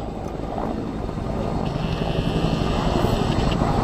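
A military helicopter flies over the Fuji live-fire exercise, its rotor and engine drone steady and building gradually louder as it draws nearer.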